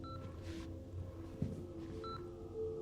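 Faint phone keypad tones sound while dialing voicemail in Returnal, a few short beeps spaced apart over a quiet ambient hum with a soft thud midway, no speech.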